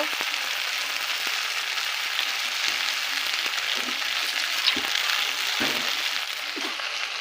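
Steady close sizzle of frying in a pan while salt and turmeric go in, with soft scrapes of stirring scattered through; no talking.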